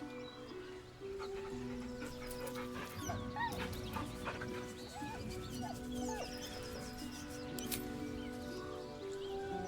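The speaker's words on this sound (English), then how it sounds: "The dog whimpers nervously, as if to urge you on." A dog in a video game whimpers nervously, several short high whines and yips over a low ambient hum, close and fairly faint.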